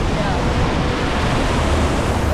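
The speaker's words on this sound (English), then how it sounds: "Just the waterfalls now." Waterfalls splashing down onto a water ride at the PortAventura theme park, a loud, continuous rushing roar of falling water with no break across the whole stretch.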